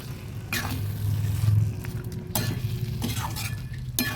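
A fish-head muri ghonto made with katla head has garam masala powder stirred through it: steady close scraping and stirring in the pan with a low sizzle underneath and a few clinks.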